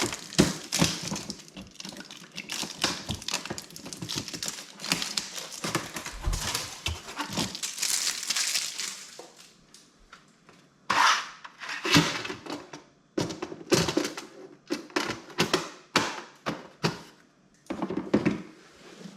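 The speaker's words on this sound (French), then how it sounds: "Alors on va enlever les scotch." Adhesive tape is peeled and ripped off a Roborock S7 MaxV Ultra vacuum docking station, a run of close, crackling tearing and rustling bursts, then sporadic scrapes and handling knocks.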